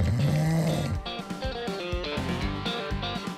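A loud, buzzing snore rasps up front, then gives way to rhythmic music with steady beats.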